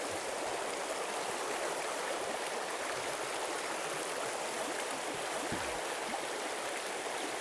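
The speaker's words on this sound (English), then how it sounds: "We're out here today on a beautiful mountain stream, fishing for some wild brook trout." A mountain stream flows steadily at a plunge pool while fishing for wild brook trout, a constant broad rushing wash of water that is fairly soft and even from start to finish.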